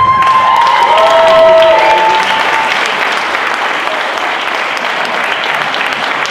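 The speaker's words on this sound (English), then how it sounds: "Can we get another round of applause for everyone on stage?" An audience applauds everyone on stage at the close of a live performance, a dense, steady wash of clapping that fills the room, with brief cheers and whistles rising early on before settling into even, sustained applause.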